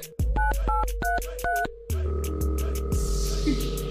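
Phone dialing in the video game Sakura School Simulator: a quick series of short keypad tones, several evenly spaced beeps, then a steady ringing or connecting tone, close and clear with no talk.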